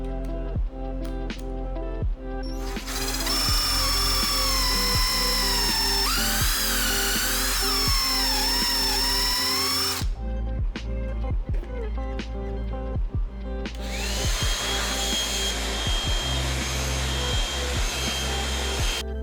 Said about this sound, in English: we need to bring out my biggest drill bit.